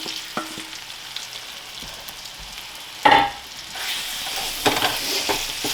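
Marinated chicken fries in butter in a pan, giving a steady close sizzle broken by the scrape and clatter of stirring, with one louder burst partway through.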